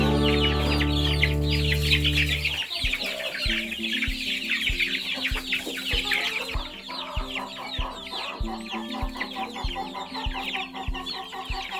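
A hen clucks in short, repeated bursts while her chicks peep busily around her. After an opening stretch of droning hum, the clucks come in a steady rhythm, close up, with no voices.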